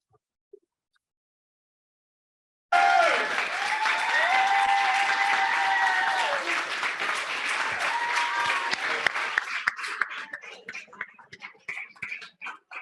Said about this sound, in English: One more round of applause, I think, for Chanel and Ayana.